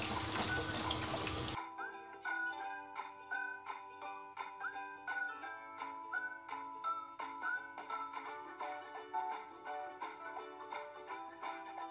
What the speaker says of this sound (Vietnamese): Đây mình rửa thật là sạch.